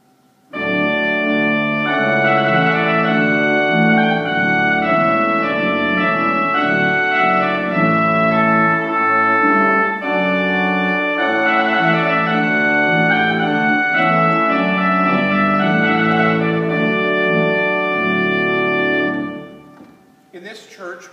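A church pipe organ in a village chapel plays full, sustained wedding music on its big trumpet stop, loud and rich with dense chords for about nineteen seconds before the sound stops and the room falls quiet.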